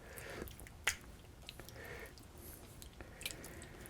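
Chunks of cut-up beef are stirred in a bowl to coat them, making soft, wet squishing and slapping sounds. The sounds are faint and close, with a sharper click near the start and no talking.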